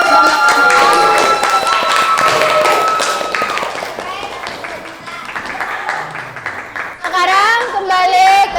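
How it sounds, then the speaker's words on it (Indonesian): Students in a classroom break into dense, lively applause with rapid overlapping claps, joined by children's chatter and voices that rise over the clapping toward the end. "Kita tepuk tangan dulu untuk semuanya karena sudah melaksanakan."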